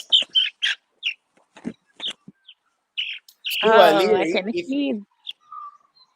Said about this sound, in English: Poppy Galactic, this is a little cheeky chick, just a little baby chicken